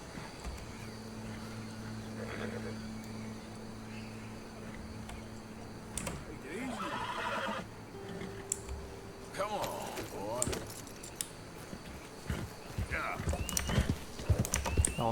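Horse in the Red Dead Redemption 2 video game clip-clopping, with hoof steps that grow more frequent toward the end and a brief neigh or snort in the middle, heard under game ambience and music.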